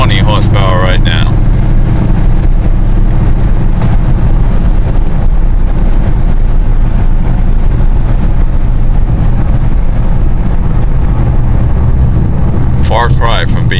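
A 2008 Dodge Challenger with an 800-horsepower engine cruises along with a steady, loud low drone throughout, while people talk inside the car over it.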